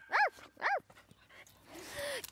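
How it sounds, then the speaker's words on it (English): A dog gives two sharp, close barks in quick succession, followed by a softer whine against quiet background noise. "What are you barking at me for?"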